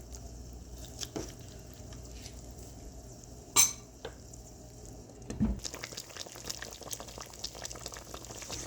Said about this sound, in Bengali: মাংসটা কষানোর জন্য একটু রেখে দিলাম।